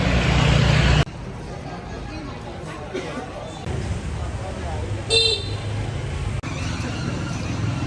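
Busy street noise in Hanoi, Vietnam, with motorbike and car engines rumbling and a few short horn toots, while someone talks over the traffic.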